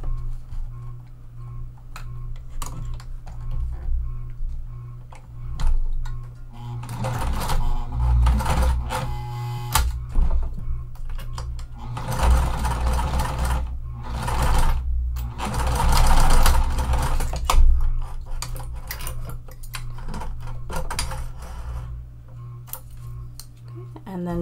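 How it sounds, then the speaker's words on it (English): A sewing machine top stitches webbing close to a D-ring connector for a pool tote, running in bursts of rapid mechanical ticking and whirring with quieter pauses and handling noise between runs. "I am going to top stitch as close to the D-ring connector as possible"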